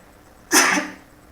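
A single loud, sharp human sneeze bursts out close by and fades over about half a second, with near silence before and after.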